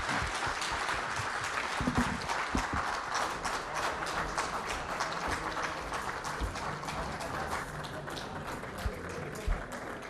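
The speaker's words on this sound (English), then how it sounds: "Let's give him a very, very warm round of applause." A large crowd at an India Today event applauds a chief minister, a loud, continuous wash of clapping with a few sharper individual claps and faint voices mixed in, easing slightly near the end.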